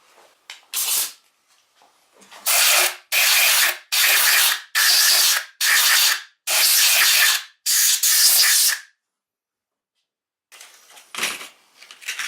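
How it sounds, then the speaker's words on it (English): Compressed air from an air compressor blows out bolt holes on a Briggs engine exhaust during a Helicoil thread repair, a series of about eight loud, close bursts, each roughly half a second, in quick rhythm, with a couple more after a pause. "Get the air compressor, blow those holes out."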